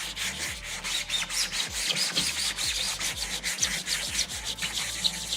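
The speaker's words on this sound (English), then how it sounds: "do a little bit, mix up some more filler" Continuous hissy rubbing of sandpaper on hardened body filler, with quick back-and-forth strokes close by and no voices.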